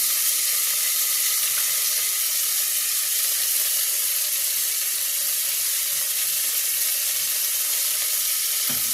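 Onion fries in a pan with turmeric and black pepper, giving a loud, steady, unbroken sizzle that fills the whole stretch with no voices.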